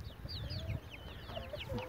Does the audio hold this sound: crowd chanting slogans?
no